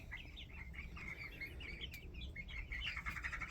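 Many young chickens chirping and peeping together in a steady chorus inside a coop, with a low background rumble.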